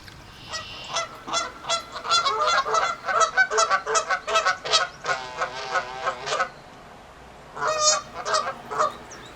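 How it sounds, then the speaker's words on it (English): Canada geese honk in a rapid series of loud, close calls, several birds overlapping in bursts, then a pause before a final cluster of honks. "Canada geese are quite busy getting ready to nest and pair off."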